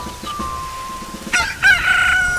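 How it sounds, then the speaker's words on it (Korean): A rooster crows inside the video game Zelda: Majora's Mask. It is a short synthesized cock-a-doodle-doo with two rising bursts, loud and close, over a steady tone and low game background. "닭으로 변하네"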